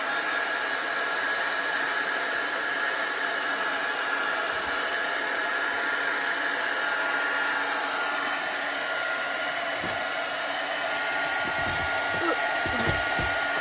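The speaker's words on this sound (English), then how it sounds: "So I'm just going to heat this up to dry it, so we can put our next layer on there." Heat tool blowing hot air to dry a chalk paste transfer on a vintage truck design, a steady loud whooshing hiss running throughout with a few faint knocks near the end.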